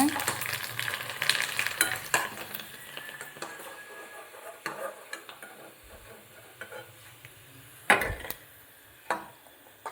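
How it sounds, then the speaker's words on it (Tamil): Vadam deep frying in hot oil with soft sizzling, while a utensil stirs and taps the pan in irregular knocks and scrapes, close by and without talk. "இப்போ பார்த்திங்கன்னா எண்ணெயில் பொரித்து அம்மா வறுத்துட்ருக்காங்க"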